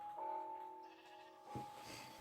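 Faint sheep bleats from the Minecraft video game, two short wavering calls a second apart, quiet and alone against a soft background.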